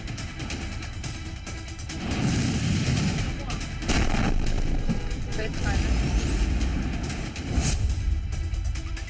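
Missile barrage explosions in a Middle East conflict between Iran and Israel: loud, sustained booming and rumbling blasts, with heavy low thuds surging from about two seconds on and sharp cracks piercing through, under voices and dense noise.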